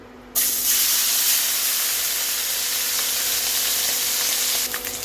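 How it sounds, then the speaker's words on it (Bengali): Small batasi fish frying in hot oil in a kadai, a loud steady sizzle that bursts in suddenly and holds as a dense hiss for several seconds, with no talk over it. "সবার প্রথমে আমি মাছগুলোকে ভাজা করে নিচ্ছি"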